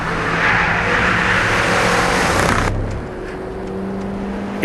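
Hot hatch driven hard around the Goodwood circuit, engine roaring loudly at high revs before abruptly dropping off as the driver lifts or shifts down, then a lower steady drone.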